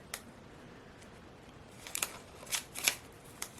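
Scissors cut a portion out of a sheet. A faint hiss gives way to a handful of crisp snips close by, bunched toward the end, with no talk.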